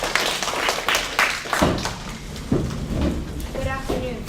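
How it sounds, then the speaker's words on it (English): An audience claps for a student presenter at a school presentation, a short burst of scattered, uneven handclaps of moderate loudness, with a voice briefly coming in near the end. "Please give him a warm round of applause."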